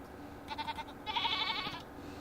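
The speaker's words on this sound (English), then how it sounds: "Where did this goat come from?" A goat bleats in a video game, two short bursts of wavering cries followed by a longer, louder bleat, heard close and alone with no talking.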